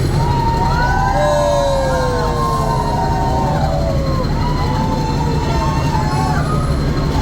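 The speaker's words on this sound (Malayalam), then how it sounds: "അങ്ങനെ നമ്മുടെ ട്രെയിൻ അടുത്ത ടണലിലേക്ക് കയറുകയാണ്" The Ooty toy train runs steadily through a tunnel with a constant whirring rumble, while high whistling, siren-like tones rise and fall over it.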